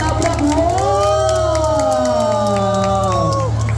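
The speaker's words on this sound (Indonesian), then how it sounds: "saat dia ke depan kita kasih sorakan dan kasih tepuk tangan untuk ikan hiu kita" A crowd at SeaWorld cheers loudly for a shark, with children's voices rising in a long sustained shout over a constant low hum, close and continuous.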